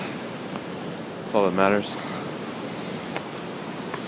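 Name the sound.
ocean waves crashing on shore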